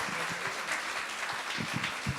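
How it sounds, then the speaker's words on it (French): Audience applause at a French-language song show taping, a steady wash of clapping from a studio crowd filling the short stretch without speech. "On les applaudit"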